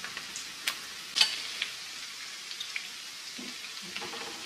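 Onions fry in a pan to a light golden colour for a dhaba-style daal mash, a soft continuous sizzle with a few sharp clinks of a utensil against the pan, no talk.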